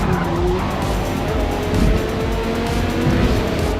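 Race cars roar past on the straight at Silverstone in Forza Motorsport, engines droning loud and steady with tyre squeal as one car overtakes, no talking over it.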